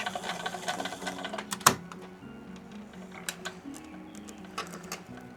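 A sewing machine back stitches a scrunchie in short, quiet bursts of rapid needle clatter, broken by pauses and a sharp click partway through.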